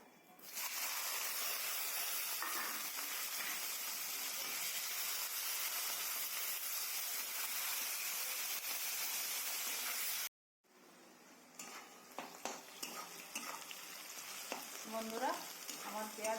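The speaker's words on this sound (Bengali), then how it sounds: "ওই তেলেই আমি দুটো তেজপাতা দিয়ে দেবো আর এই কুচনো পেঁয়াজ" Chopped onions and bay leaves frying in oil for a village-style Bengali chicken curry with taro, a loud steady sizzle that runs continuously, breaks off briefly, then resumes with stirring scrapes and spattering crackles.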